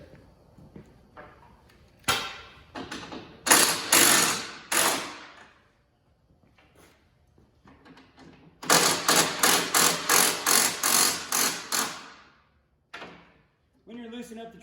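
Track tension nuts on a Yeti Snow MX snow bike are loosened with a tool, giving loud rattling bursts, several long runs of rapid repeated hammering with short pauses between them.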